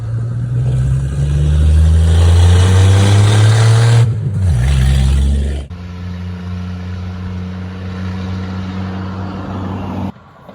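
A loud 1967 Plymouth Barracuda engine rumbles and revs, then settles into a steady idle, with occasional pops and crackles from the exhaust.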